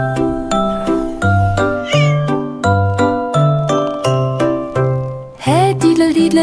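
Cat meows sung in a bouncy melody within a French nursery rhyme song for children, repeated in an even rhythm over tinkling music, loud and upfront, with a final rising caterwaul.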